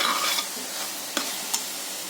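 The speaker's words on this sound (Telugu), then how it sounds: "బాగా కలిపేసి" Crab curry masala sizzles softly in a pan while a spoon stirs it, a steady low hiss with two sharp scraping taps against the pan, close and without voices.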